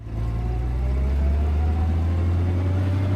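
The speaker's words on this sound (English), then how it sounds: "This is the sound of a Goldwing." A Honda Goldwing motorcycle engine rumbles steadily with a deep, low idle-like drone, close and continuous for a few seconds, with no talking over it.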